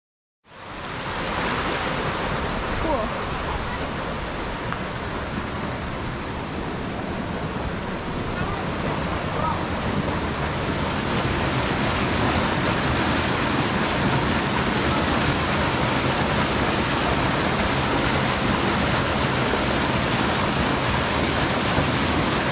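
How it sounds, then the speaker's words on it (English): Water rushes steadily at Alley Spring in Missouri's Ozark National Scenic Riverways, a dense, unbroken roar of flowing water heard close up, with no voices over it. "Does anybody else love the sound of running water like we do?"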